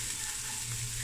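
Steady, faint sizzling of grated ginger frying in a pan for a curry, a continuous crackly hiss with a low hum underneath and no voices.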